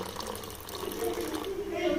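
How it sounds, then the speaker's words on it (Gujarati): Water poured into idli batter in a home kitchen, a short liquid pour and splash rising toward the end, heard under steady background noise. "ઉપરથી થોડું એક પાણી નાખીશું"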